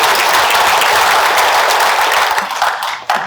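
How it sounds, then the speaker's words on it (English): Dense, sustained applause from an audience at a Rotary Christmas gathering in Chilliwack, loud and continuous, thinning slightly toward the end. "Please applaud for our guests."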